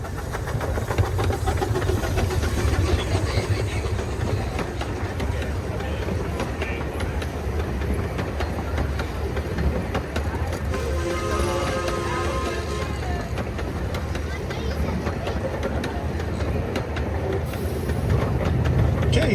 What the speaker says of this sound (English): we're going to ride the train one more time